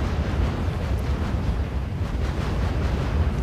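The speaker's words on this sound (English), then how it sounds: "I get strafed by more fighter bombers" Fighter bombers strafing and explosions in the R.U.S.E. strategy video game make a dense, continuous low rumbling roar that holds steady and loud throughout, with no voices.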